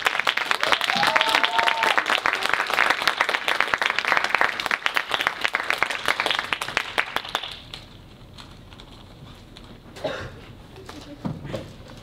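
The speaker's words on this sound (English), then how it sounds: "please give our candidates one final warm round of applause as they exit the stage" Warm applause from the audience at a university student-government presidential debate as the candidates leave the stage; dense clapping for about seven seconds, then it drops off sharply into quiet room noise with a few faint sounds.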